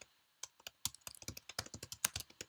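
Close, quiet typing on a computer keyboard, irregular key clicks in quick bursts with no talking.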